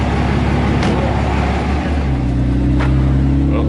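A 2012 Cummins pickup truck fitted with a new torque converter and valve body accelerates on the road. A loud, steady diesel engine drone shifts pitch partway through as the transmission changes gear, under constant road and cabin noise.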